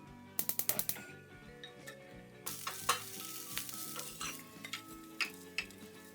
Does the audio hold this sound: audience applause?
no